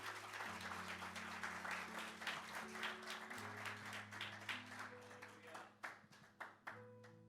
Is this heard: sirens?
no